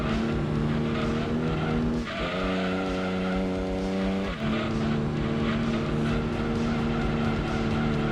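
A heavy race car in Gran Turismo 2 takes a long corner with a steady droning engine note, briefly dipping and shifting pitch mid-turn before settling into a sustained whine again.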